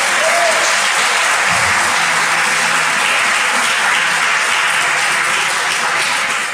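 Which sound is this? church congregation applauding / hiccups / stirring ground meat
church congregation applauding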